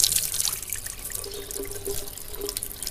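Tap water runs steadily into a sink while hands splash it gently onto the face during wudu ablution, a soft continuous trickle with light splashes close by and no talking.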